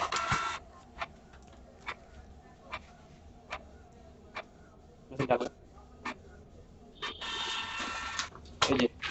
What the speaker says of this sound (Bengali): এই যে দেখতে পাচ্ছ এখন প্রিন্ট করছে।